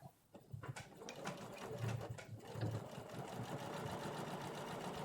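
A sewing machine runs steadily and close, stitching a doll dress seam from the underside along serged edges at stitch length 3, a continuous rapid whir with light mechanical ticking and no talking.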